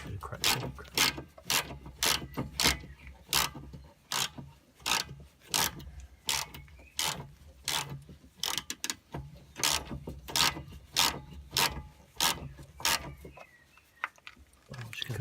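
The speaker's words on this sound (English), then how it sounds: "I'm just going to use my breaker bar." A wrench ratchets on a bolt at the rear coil-spring suspension of a Toyota Yaris Verso, making steady, evenly spaced mechanical clicks in a long close run with a brief pause near the end.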